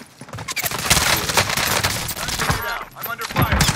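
Rapid automatic gunfire in Call of Duty Warzone, including the Modern Warfare M4A1, fires in dense, loud bursts throughout, with players talking over it.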